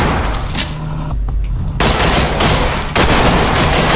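Shotgun fire through a wall in the tactical shooter Ready or Not comes as loud, broadband booms, with two sharp blasts standing out against dense, continuous gunfire noise.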